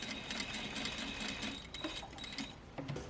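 Sewing machine stitching a double welt pocket, running steadily with a fast, even mechanical whir and a few small clicks near the end, close and fairly quiet, with no talking.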